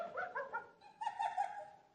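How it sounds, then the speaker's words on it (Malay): A dog gives a few short barks at close range in a home, followed by a longer whining, yelping call. "Pula bunyi anjing."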